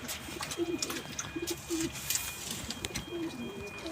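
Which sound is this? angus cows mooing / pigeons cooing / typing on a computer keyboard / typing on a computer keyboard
pigeons cooing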